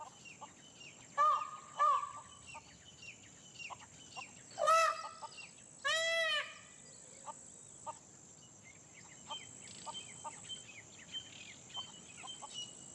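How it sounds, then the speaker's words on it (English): A flock of peafowl foraging calls out with several loud, ringing honks and wails at mid distance, mixed with scattered softer chirps and clucks in a quiet natural setting. "A flock of pea fowl is foraging nearby."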